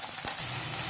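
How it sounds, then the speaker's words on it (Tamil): Chopped onions tipped into hot oil in a pan for a restaurant-style chicken masala, giving a steady, close, loud frying sizzle throughout, with a brief stir or clatter near the start. "இதில் நம்ம பொடிசாக நறுக்கி வச்சுருக்கிற வெங்காயத்தை ஆட் பண்ணிக்கலாம்."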